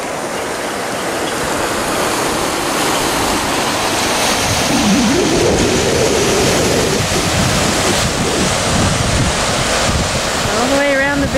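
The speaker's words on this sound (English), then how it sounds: "Oh, it's flowing fast. Guess the beaver dam washed away, huh?" Fast floodwater stream surging after a beaver dam washed away, heard on a hike: a loud, steady, close rushing roar of water that continues throughout, with some wind noise.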